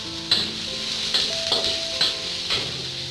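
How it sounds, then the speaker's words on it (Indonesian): Garlic and bird's eye chili stir-fry in a pan with a steady close sizzle, broken by several sharp scraping stirs of the spatula at regular intervals. "kita akan mulai menumis ya jadi ini adalah tumisan kering bawang putih dan cabai rawit"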